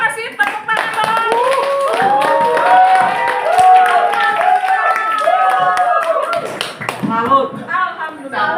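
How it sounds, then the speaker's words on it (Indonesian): An audience at an Indonesian community talk on recycling plastic waste claps together under loud, tonal voices, with scattered hand claps sounding through and a sharper burst of applause near the end. "Ayo kasih tepuk tangan dong."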